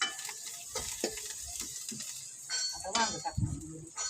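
Brinjal sautéing in hot oil in a pan on a village wood-fired stove, with a steady sizzle and frying crackle under scraping stirs and a few clinks of a spoon against the pan.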